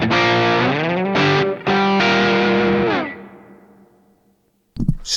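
Electric guitar played through a Fractal modelling unit on a Friedman BE amp model, crunchy distorted chords sustained and sliding, then decaying into near silence before a brief burst of noise at the end.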